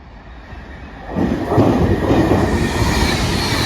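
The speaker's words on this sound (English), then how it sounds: "passing through now is a cross-country service to Bristol Temple Meads from Manchester Piccadilly" Class 220 Cross Country train passing through a station, a loud sustained rumble and rush that swells in and holds steady, with no voices over it.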